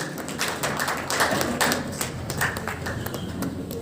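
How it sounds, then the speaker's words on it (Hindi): An audience gives a standing ovation at a stage event of the Senior Citizen Council in Ludhiana. Dense, steady clapping from many hands continues without a break. "जोरदार तालियों से स्वागत कीजिए। Give him a standing ovation please, standing ovation"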